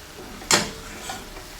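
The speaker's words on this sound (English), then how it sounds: "I am going to pour this sauce on the top of the prawns, and then it's time to mix." Honey garlic sauce poured over prawns in a pan, with a short clattering stir and a brief sizzle, then quieter scraping movement.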